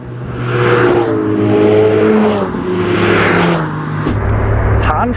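A Lotus Elise sports car engine revs hard toward about 9000 rpm, its loud, close howl climbing and holding in pitch, then dropping back briefly before rising again.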